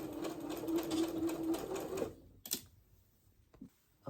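A sewing machine back stitches a 5/8 seam in a short steady whirring burst of needle chatter lasting about two seconds, then stops, followed by a few soft clicks and handling bumps.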